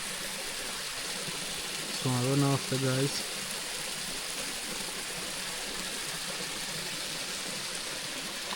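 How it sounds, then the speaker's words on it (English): A river near Richmond Vale, St Thomas, flows with a steady, broad rushing sound throughout, and someone speaks briefly near the start over the water. "So you see the river"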